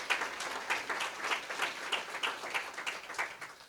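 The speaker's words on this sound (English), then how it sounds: "Just give them a round of applause, please." An audience at a town's annual state-of-the-town address applauds steadily at moderate volume, a continuous patter of many hands clapping for several seconds with no speech.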